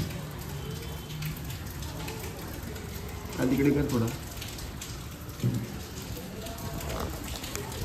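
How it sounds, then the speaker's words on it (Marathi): Steady rain falling outdoors, a soft continuous patter under brief bursts of nearby talk. "पाऊस चालू आहे,"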